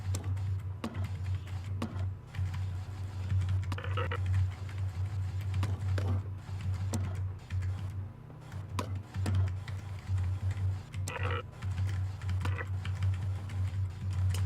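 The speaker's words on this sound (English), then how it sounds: "I'm just going to use the arrow keys" Computer keyboard arrow keys tapped while playing the Nancy Drew adventure game Legend of the Crystal Skull, a scattered run of light clicks and taps over a steady low hum.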